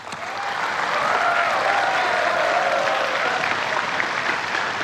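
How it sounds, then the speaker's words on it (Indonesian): Studio audience applause at a televised 2014 Indonesian presidential and vice-presidential debate, a steady, loud wash of many hands clapping, sustained evenly for about five seconds. "Silahkan tepuk tangan."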